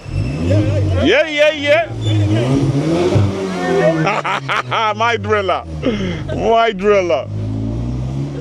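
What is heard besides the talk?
Audi S3 engine revving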